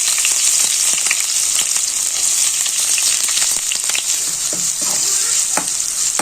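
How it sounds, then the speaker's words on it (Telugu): Thinly sliced onions tossed into hot oil for a chicken fry hiss loudly with a dense, continuous sizzle, broken by scattered clicks and taps of a stirring spoon, close up. "ఆయిల్ కాస్త హీట్ అయ్యాక మనం ముందుగా సన్నగా తరిగి పెట్టుకున్న ఉల్లిపాయలు వేసుకోవాలండి"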